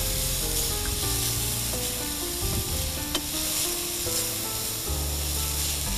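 Finely chopped apples fry in a pan for an apple and fennel soup, giving a loud, steady sizzle with occasional stirring scrapes and light clinks, and no one speaking.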